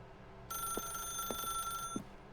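A telephone rings in The Stanley Parable video game, a steady electronic ring that starts suddenly and holds for about a second and a half, with a few soft thumps under it before it cuts off.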